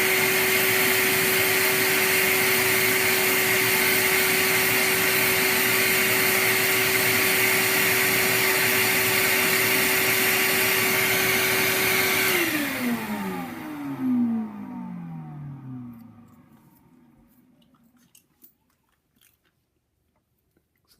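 A BKM4 reed machine cuts the back part of a clarinet reed with a loud, steady whirring grind that runs for about twelve seconds, then winds down gradually into silence as the motor stops.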